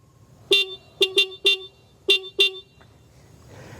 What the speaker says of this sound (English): horn check for the S5M ADX-TG 400